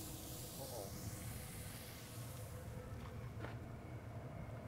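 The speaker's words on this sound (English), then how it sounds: "We're gonna flip our ham steak here." A ham steak sizzles on an outdoor grill just after being flipped, making a continuous broad hiss that stays loud and close throughout, with faint voices in the background.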